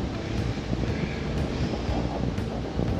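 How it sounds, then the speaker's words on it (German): Steady outdoor wind buffeting and rushing across the microphone during a walk on Rügen, a continuous broadband roar with a faint high whine above it and no voices. "Und der Wind pfeift immer noch."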